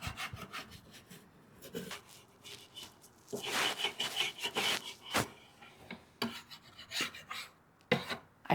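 Softened wood stain is scraped off a wooden patio table with stripper and a scraper, heard as close, repeated rasping strokes of varying length, with a longer, denser scrape midway.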